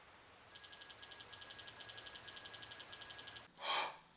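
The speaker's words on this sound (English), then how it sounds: "Where's the alarm come from?" A house alarm goes off indoors during a nighttime paranormal investigation, a steady run of rapid high-pitched electronic beeps in short bursts that stops abruptly, followed by a brief noisy rustle.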